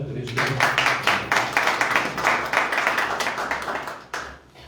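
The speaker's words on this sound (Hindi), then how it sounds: "एक बार जोर साथ ताली बजाएं" An audience at a Christian gathering claps loudly in a fast, steady rhythm. The dense clapping is close and continuous, then drops off near the end.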